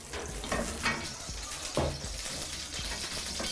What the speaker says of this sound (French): on met un filet d'huile